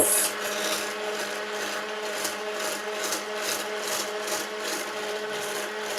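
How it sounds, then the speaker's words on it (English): Whisking Eton mess mixture toward peaks: a steady, close rhythmic scraping and swishing of a whisk against a bowl, with regular pulsing strokes running continuously throughout. "So we're just going to keep whisking this until we've got some peaks."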